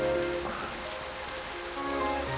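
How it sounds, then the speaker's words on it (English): Steady wintry rain falling onto the ground and splashing into puddles in a visual novel game scene, a continuous even patter with soft background music tones and no voices. "The falling rain forms ripples into brown puddles on the ground."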